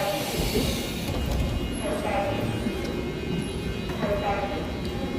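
A subway train rumbles steadily through a station in Korea, with continuous low wheel and track noise and faint high squeals, heard from aboard or near the platform.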